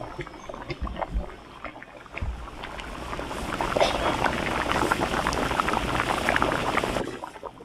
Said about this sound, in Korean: 짧은 동안 삶는데 가끔씩 이렇게 저어주세요